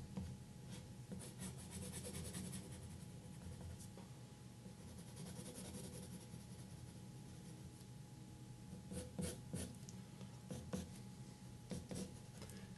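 Graphite pencil scratching out fur strokes for a drawing of the reindeer Sven from Frozen 2, a steady close rasping and rubbing on paper with brief louder scratchy bursts, no talk.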